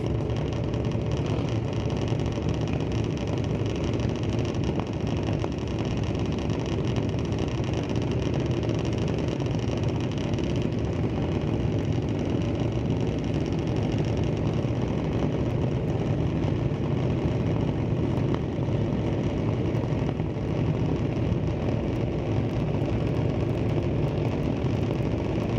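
Junior dragsters, a 2014 and a 2025 Mike Boss, idle at the start line at a drag strip, their small engines making a steady, loud, rough burble that holds constant throughout.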